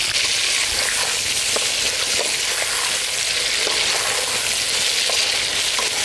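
Brinjal frying in sesame oil for a village-kitchen brinjal gravy: a loud, close, continuous crackling sizzle with faint stirring clicks and no talking.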